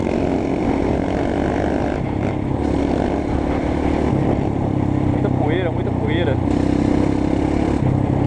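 Trail dirt bikes revving their engines at night, a loud continuous engine drone with rising and falling pitch from motorcycles nearby, while someone talks over it.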